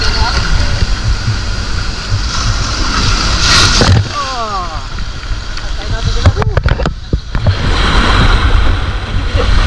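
Loud, continuous roar of big high-tide ocean waves at night with wind buffeting the microphone, a few splashing and knocking sounds partway through, and a voice speaking briefly.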